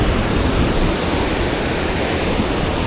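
Steady wind buffeting the microphone beside the Fox River spillway, a loud, unbroken rush of broadband noise with no pauses and no voices.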